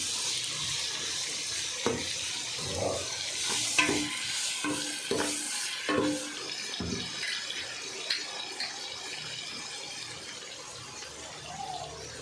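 Tomatoes sautéing in a pan for mutton kaima kulambu make a steady sizzle under light stirring, with scattered utensil clicks and taps and a brief splash of running water near the end.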